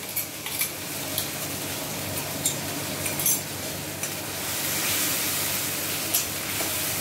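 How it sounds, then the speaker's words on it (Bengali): A paste of tomato, ginger and green chili sizzling in hot oil in a pan, a steady frying hiss broken by repeated scrapes and clinks of a spoon stirring. "আমরা মিক্সিতে বেটে রাখা মশলাটা, মানে টমেটো, আদা আর কাঁচা লঙ্কা বাটাটা ওই তেলের মধ্যে দিয়ে দিলাম"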